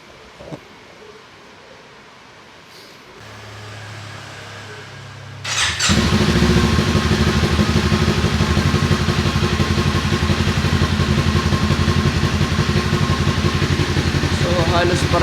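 A Kawasaki Z400 fitted with a Yoshimura R77 exhaust and silencer starts up after a quiet lead-in, then settles into a loud, steady idle with a dense, even burble close by.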